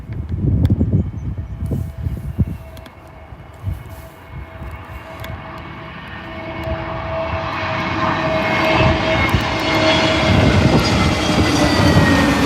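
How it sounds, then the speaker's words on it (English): EasyJet Airbus A320neo jet at Birmingham airport, its engine roar swelling steadily from moderate to loud and close as the aircraft passes, with a rising whine over the rumble. "Here's your A320 from EasyJet."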